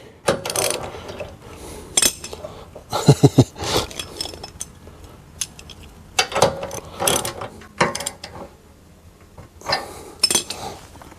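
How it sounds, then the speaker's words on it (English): A hand ratchet tightens a hitch-mounted motorcycle carrier in loud, close bursts of rapid clicking, with pauses between strokes and occasional metallic clinks. "We're tightening it right now, just to kind of set the spot."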